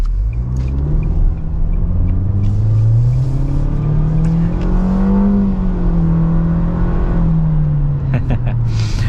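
A 2022 Nissan Kicks in sport mode accelerating hard from inside the cabin, a loud steady engine drone rising and falling in pitch for several seconds with road rumble underneath.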